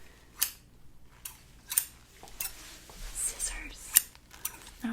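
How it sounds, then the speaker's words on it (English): Scissors snip and clack in several short, crisp, close bursts spaced irregularly, with faint whispering between them. "Scissors."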